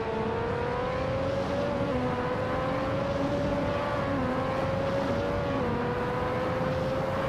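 Race car engines in a racing video game, one of them a Coloni SC 188, drone steadily through the field with a continuous high engine whine that gently rises and falls throughout, no speech over it.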